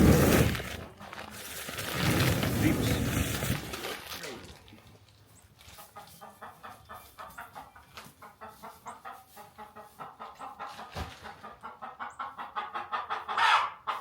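Chickens on a homestead cluck in a steady run of short, rhythmic calls, building louder toward the end after a burst of broader noise at the start, with no voices over them.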